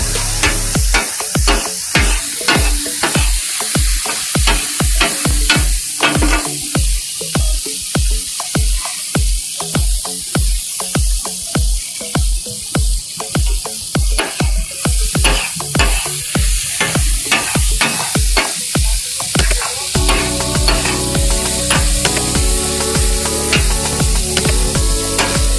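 Chicken kata kat being stir-fried in a pan for street-style Karachi cooking: loud, steady scraping and clattering strokes in a fast rhythm over continuous sizzling, up close with no voices, ending in quicker tapping strokes.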